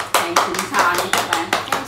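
A few sharp hand claps at a family birthday gathering, seven or eight close, evenly spaced claps with voices talking over them.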